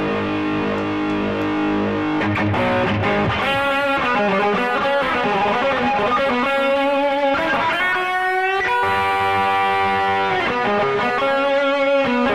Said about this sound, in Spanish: Entonces tenemos la distorsión. Ahí una distorsión consistente.